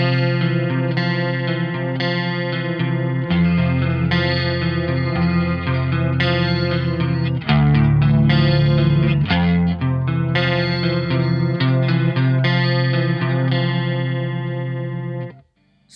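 A 1980s ESP Mirage Deluxe electric guitar played through a chorus effect, sustained shimmering chords and riffs ringing continuously and loud for the whole passage, with a brief thicker low swell midway before cutting off at the end.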